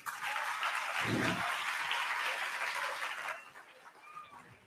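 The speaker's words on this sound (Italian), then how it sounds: "Greta, fatele un applauso" Audience at a privacy-themed talk event clapping for a speaker, a steady round of applause that fades out after about three seconds, leaving a quiet room with faint chirps.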